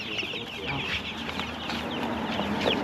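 Chickens in a backyard garden cluck and chatter continuously, several birds close by against a steady windy background, with no talking.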